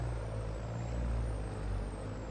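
Steady engine drone with a hissing air brake from a truck in the farming game Farming Simulator 22, a continuous low rumble and thin high whine holding for a couple of seconds at moderate level.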